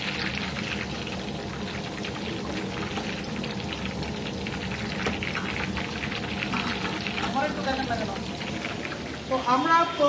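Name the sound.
frying garlic in oil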